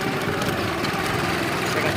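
A BMW motorbike engine runs in a steady, continuous idle, its low rumble and rough vibration holding at an even level throughout.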